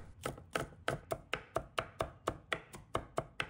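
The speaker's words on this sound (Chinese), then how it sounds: "再准备一把大蒜，把它拍碎， 再切成末" Crushed garlic being chopped into mince with a knife on a cutting board: a steady series of about a dozen crisp, evenly spaced knife chops, close and clear with no talking.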